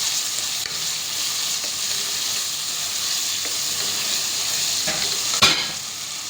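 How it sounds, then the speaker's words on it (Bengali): Spice masala with green chilies stir-fries in a pan, giving a steady loud sizzle with faint scraping of the stirring utensil and a sharper clatter near the end, no voices. "এবারে ভালো করে এটা মশলাটা কষায় নিই"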